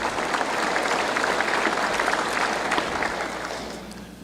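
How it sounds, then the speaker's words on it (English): Audience applause for police and firefighter heroes during a governor's State of the State address, a dense burst of clapping from a large crowd that tapers off toward the end. "One more round of applause for these heroes."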